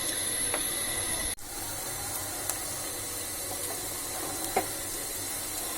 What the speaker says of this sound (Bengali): তেলটা গরম হয়ে গেছে, এখন আমি পেঁয়াজ দিলাম। পেঁয়াজগুলি একটু নাড়াচাড়া করি।